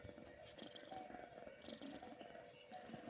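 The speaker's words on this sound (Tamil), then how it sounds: "எங்கள் பூனை நல்லா கொரட்டை விட்டு நல்லா தூங்குது." A sleeping pet cat snoring softly, faint rhythmic breathy rumbles recorded close up against a quiet background, with no talking.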